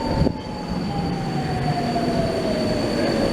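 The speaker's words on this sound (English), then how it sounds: "they were new Alstom trains, and here is one just arriving now" A new Alstom metro train pulls into a Budapest station on the M3 line, its wheels squealing steadily with a sustained high whine over a constant rumble, loud and close, with no voices.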